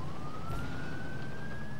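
A police car siren wails in the video game Watch Dogs, one steady rising tone that holds fairly faint over low traffic rumble, with no talk.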